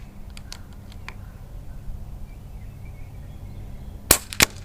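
A power-modded Air Venturi Alpha air rifle, Terminador Edition, fires at a target, giving two sharp, loud cracks in quick succession after a quiet stretch of faint ticks and low background hum.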